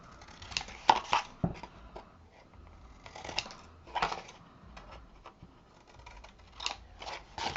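Scissors snip through the corner of a paper piece during mini album crafting, giving a few quick, close, crisp cuts spaced unevenly, with soft handling rustle between them.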